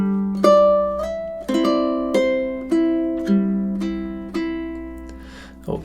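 Measures 13 to 16 of the Mexican folk song Cielito Lindo played on ukulele: plucked notes and ringing chords in a lilting triple rhythm, up close and clean, with no voices.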